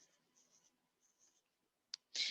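Numbers written by hand during a math lesson on percents: brief faint scratchy strokes, then a short sharp tap and a louder scrape at the end, quiet and close with no talk.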